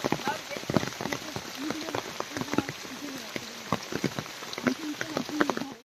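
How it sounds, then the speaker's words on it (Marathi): Heavy monsoon rain in the Konkan countryside, a steady patter of drops with frequent sharp splats close by, while people talk over it. "इकडे भरपूर जोरात पाऊस पडतोय."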